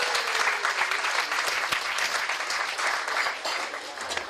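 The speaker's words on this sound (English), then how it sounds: "Please give him a round of applause." Guests applaud at a fundraising dinner for a Richmond Hill councillor candidate, a lively, continuous round of many clapping hands held at steady strength, close and clear, with no talking over it.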